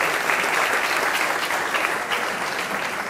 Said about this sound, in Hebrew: איפה מחיאות הכפיים?